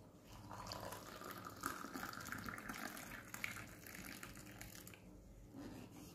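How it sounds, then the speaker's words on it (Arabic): Boiling water pours into a glass for tea, a continuous close splashing fill that runs for about five seconds and then tapers into quieter trickles, with no speech over it. "دلوقتي بقى هننزل عليها كده بكوبايه الميه المغليه بتاعتنا"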